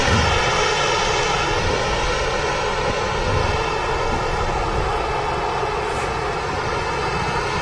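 A TUI Boeing 767 jet touches down on runway 23 right at Manchester Airport, its engines a loud, sustained whining roar with a steady tonal hum.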